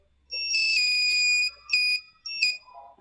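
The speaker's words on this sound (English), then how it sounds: "Here we are controlling buzzer and the LED." An Arduino-controlled buzzer sounds in short, shrill beeps: one long tone followed by two brief bursts, close and clear against a quiet background.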